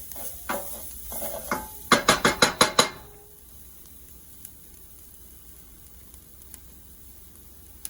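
Garlic sautéing in a hot skillet, with several scraping clacks of a utensil against the pan, then a quick run of rhythmic taps, before a soft, steady sizzle continues alone.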